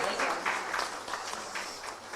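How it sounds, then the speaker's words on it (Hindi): An audience at a budget seminar claps for a delegate being honoured, a moderately loud wash of applause with uneven bursts, lasting a couple of seconds. "तालियां जोरदार।"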